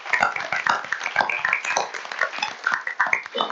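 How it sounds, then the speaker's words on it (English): Applause at a Board of Public Works meeting welcoming the new executive secretary: a room of hands clapping in a dense, steady patter throughout, close and moderately loud. "Let's give him a round of applause."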